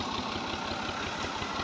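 A tractor engine idles steadily while driving a water pump, a continuous low rumble with a faint rhythmic throb, loud and close, with no talking.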